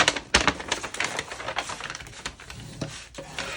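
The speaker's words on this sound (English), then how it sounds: "I use my bone folder to go back and forth." A bone folder scraped rapidly back and forth along the fold of a paper bag for a journal, making a dense, busy run of close, dry rubbing and papery scratching strokes with a few sharper taps, loud and alone.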